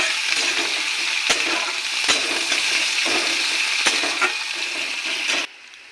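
Chopped onion frying in a pan with cinnamon and cumin for a small-potato aloo dum, a steady broadband sizzle with a few sharper crackles, continuous and fairly loud, cutting off near the end.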